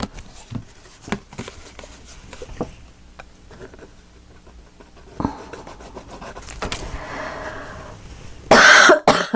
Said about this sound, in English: I'm coughing right into the microphone